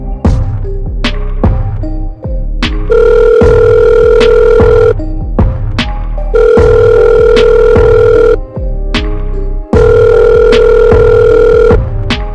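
A telephone rings loud and close in three long electronic bursts separated by short gaps, with brief clicks and tones between them and no voices.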